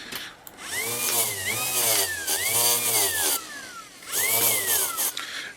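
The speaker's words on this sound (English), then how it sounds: "And it is spinning a few wire brushes." A 12V DC motor spins wire brushes on a homemade key buffing tool, whirring up and down in pitch over several short bursts as a key is pressed against it, close and loud.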